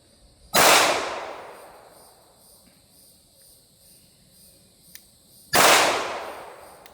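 Two sharp, loud pistol shots from a smaller frame handgun fitted with a red dot, spaced about five seconds apart, each with a decaying outdoor echo and no talking.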